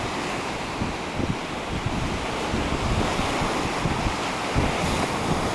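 Surf breaking steadily on a beach in Royal National Park, a continuous broadband wash with strong wind noise buffeting the microphone throughout, no voices.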